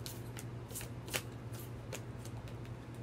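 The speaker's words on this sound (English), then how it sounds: "Let's get one more Zodiac card." Cards being shuffled and drawn from a zodiac deck, a few crisp riffles and soft slides in a steady close-up rhythm, with one sharper snap near the middle and no voices.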